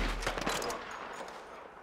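A short burst of rifle shots from a Red Dead Redemption 2 gunfight at the start, fading into a quiet outdoor ambience, with no speech.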